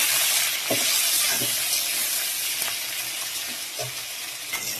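Green chilies frying in a pan with onion stems already browned, giving a loud, steady sizzle with a few soft scrapes of stirring and no voices.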